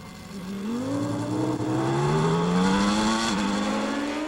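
Formula 1 race cars at the 1993 French Grand Prix, their engines screaming as they accelerate, pitch climbing steadily, loud and close with no talk.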